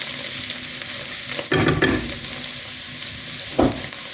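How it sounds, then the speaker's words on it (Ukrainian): Cabbage stewing in a pan with ground black pepper, a steady soft sizzle throughout, broken by two louder scraping stirs of the spoon, one long and one brief, with no talking. "і тушимо капусту 5 хвилин"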